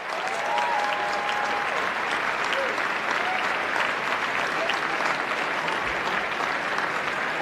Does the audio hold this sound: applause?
yes